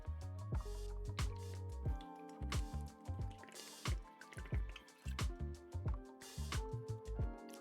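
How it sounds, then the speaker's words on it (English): Someone takes quiet, close sips of water, with a steady run of soft wet slurps and gulps in an irregular rhythm and no talking over them. "I will take a sip of my water"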